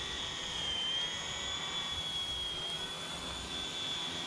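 A cheap realistic RC helicopter comes in for a backwards landing, giving a steady high-pitched motor and rotor whine that stays constant and close, with no talk.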